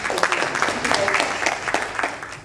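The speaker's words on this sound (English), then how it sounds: "shall we give Mr. Aliso an applause of appreciation" An audience applauds a lecturer from Hankuk University of Foreign Studies' Division of International Sports and Leisure in a short, moderately loud round of clapping, with voices mixed in.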